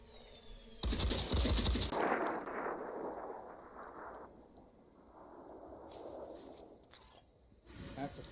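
Gunfire in the Phoenix Point video game, a loud burst of rapid shots at the start followed by rumbling explosion-like decay and scattered later shots, with a voice speaking faintly underneath.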